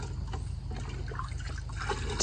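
Rainwater collected in a sled is poured out, giving a steady close trickle and splash of liquid over a low rumble, with no talk.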